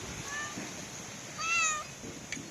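A cat meows clearly several times, short rising calls at moderate distance over a quiet background.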